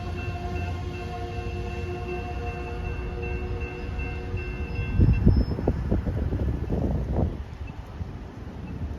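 Amtrak 321 arrives at the station in downtown Fayetteville, North Carolina: a steady horn blast sounds at moderate distance, followed by rumbling, clanking rail cars rolling past over wind noise.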